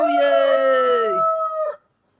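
A person's voice imitates a rooster crowing, one loud, drawn-out cock-a-doodle-doo call lasting under two seconds, close and alone, during a French-language sermon.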